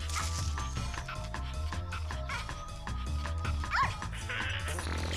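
Small dog yipping and barking in a cutscene from the console game Neighbours from Hell, set over continuous game music, several short barks spread through the passage.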